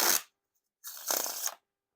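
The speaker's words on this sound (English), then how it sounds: "the riffle shuffles and bridge shuffles feel pretty smooth and consistent" Bicycle Black Tiger playing cards being riffle shuffled, with a short burst of card flutter, a pause, then a longer riffle and bridge cascade about half a second long, close and crisp.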